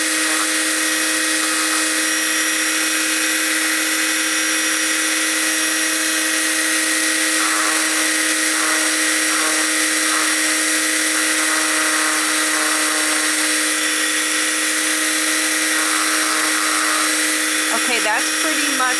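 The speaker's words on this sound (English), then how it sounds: "I'm going to keep drilling this down and shaving off the outside of the hole" A small high-pitched power drill whines continuously at close range, steady and shrill throughout, with faint grinding variations as it bores and widens the eye holes of a ball-jointed doll head.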